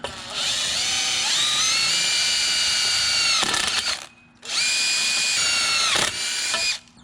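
An electric drill bores through metal, running loud and close in two long sustained bursts, its whine straining and shifting in pitch as the bit bites, with a short pause between.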